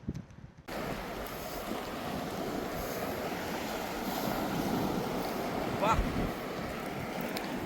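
A fishing boat runs across the open sea toward a new fishing spot, with a steady wash of wind, waves and hull noise that begins after a brief quiet moment and continues unbroken.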